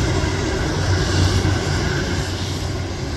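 A Boeing 787 airliner at Guarulhos airport producing a loud, steady low jet engine roar with a broad rushing hiss, constant throughout.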